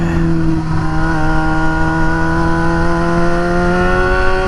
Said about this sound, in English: tunnel exhaust, yeah.